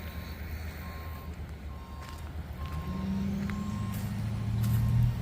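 A heavy dump truck's reversing alarm beeps in a steady, evenly spaced pattern at a downtown excavation site, over a constant low diesel engine rumble that swells toward the end.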